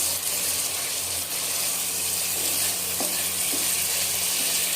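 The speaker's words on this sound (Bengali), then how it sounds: "আর এখানে রান্না করতেছি হচ্ছে ছুরি শুটকি দিয়ে বড় বাইলা মাছ দিয়ে একসাথে।" Big baila fish and dried ribbonfish simmering together in a pan give a steady, dense sizzle with a faint hiss and a few soft clicks of stirring, close and continuous, with no voices.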